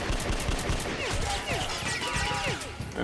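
Rapid bursts of gunfire in the Metro: Last Light first-person shooter, with dense, sustained shots and crashes under scattered game voices and effects.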